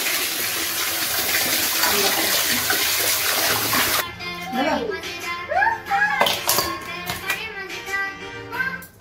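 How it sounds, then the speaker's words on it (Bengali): Water gushes steadily from a tap onto fresh sea fish being washed for several seconds, then cuts off as a voice starts talking. "মাছগুলো আমি ধুয়ে নিচ্ছি"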